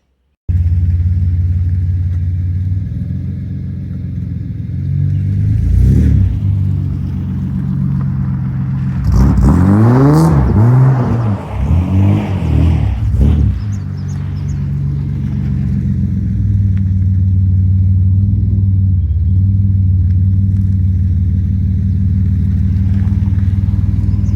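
A Nissan Skyline R31 converted to a manual RB25DET gearbox, with a freshly built differential and brakes, idles with a loud, close rumble. Midway it revs hard in several rising and falling bursts, then settles back to a steady growl.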